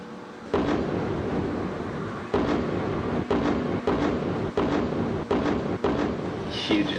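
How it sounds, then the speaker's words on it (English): Heavy explosions from bombing in Beirut thud out as a series of about six dull, booming blasts at irregular intervals, each a sudden broad burst that decays into a rumbling background. "Huge explosion."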